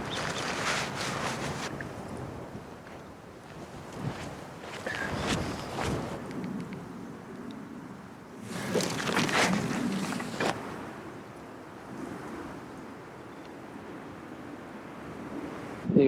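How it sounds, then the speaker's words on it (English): Strong wind sweeps across a desert campsite in Joshua Tree National Park during an atmospheric river storm, roaring in broad gusts that buffet the microphone, with the loudest surges near the start and again around the middle. "pretty hard to roll up a tent in this kind of wind"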